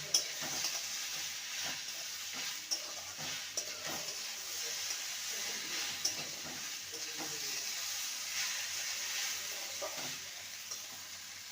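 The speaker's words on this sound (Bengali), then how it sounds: "এবার একটা মিডিয়াম সাইজে টমেটো দিলাম টমেটোটাকেও ভালো করে নেড়ে নেব" Tomato being stirred with ridge gourd and potatoes in a frying pan: soft, steady sizzling under repeated light scrapes and taps of a spatula, fairly quiet and close, with no talking.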